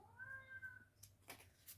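A cat gives a clear, drawn-out meow followed by a few shorter, softer mewing sounds, fairly faint indoors with no speech.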